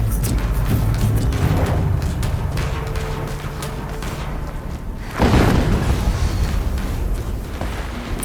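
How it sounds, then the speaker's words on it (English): Another explosion in Horizon Zero Dawn Remastered, a heavy boom striking late over continuous rumbling game ambience and fading into a lingering roar. "Another explosion."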